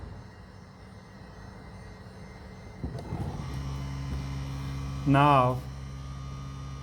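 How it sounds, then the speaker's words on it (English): A Mercedes W211 Sensotronic brake control system activates with a steady electric hum joined by a low pump whir, then a brief rising-and-falling whine near the end, heard close inside the car. "the Sensotronic brake control system is activating, as you can hear."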